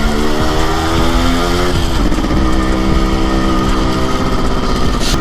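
A two-stroke Yamaha RX100 motorcycle, 20 to 30 years old, is ridden. Its loud buzzing engine shifts pitch partway through as it revs, close and continuous with no talking.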